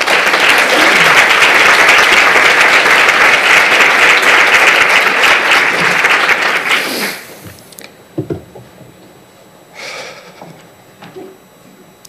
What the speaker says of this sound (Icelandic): við skulum klappa fyrir honum